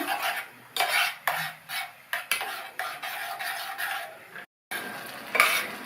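Cooked moong dal being stirred into a jaggery solution in a pan for payasam. A spoon scrapes the pan in repeated strokes, close and fairly loud, with a brief silent break near the end.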